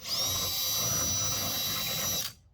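A hand mill bores out a rivet hole on a 1964 Suburban during exhaust work, giving a steady close high-pitched whine for about two seconds before it stops abruptly.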